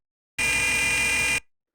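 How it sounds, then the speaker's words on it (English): Space station alarm sound effect: one loud, harsh electronic buzzer tone holds steadily for about a second, then cuts off with a short fading tail. "There's an alarm."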